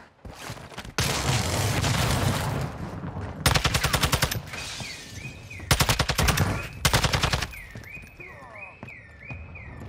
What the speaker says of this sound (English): I hear hella shooting